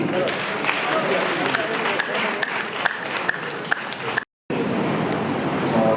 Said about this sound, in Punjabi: ਜੋਰਦਾਰ ਤਾੜੀਆਂ ਜੀ